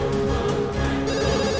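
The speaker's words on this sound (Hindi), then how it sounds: "Daddy please pick up the phone." A telephone bell rings on and on with no one picking up, a steady, loud electronic trill repeating without a break and with no voices over it.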